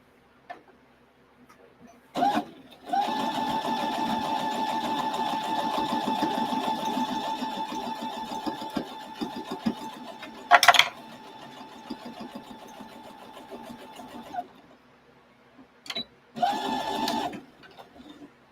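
A sewing machine stitching a beginner's quilt block runs close and clear: a quick tap, then a long steady rattling run of stitches with a sharp clack midway. After a pause come two shorter bursts.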